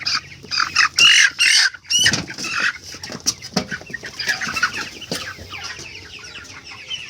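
Sick farm chickens with colds cluck and squawk in a loud, busy chorus, with sharp bursts early on giving way to steady clucking and scattered calls.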